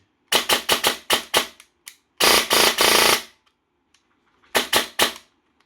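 A G&G Wild Hog 7 airsoft rifle fires close and loud: a quick string of sharp single shots, then a dense full-auto burst, and finally a few more rapid shots, with quiet gaps between the groups.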